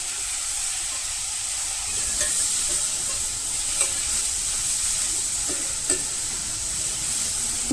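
Curry sizzles in a hot pan with a continuous frying hiss, while a spatula stirs and scrapes the bottom in several distinct strokes.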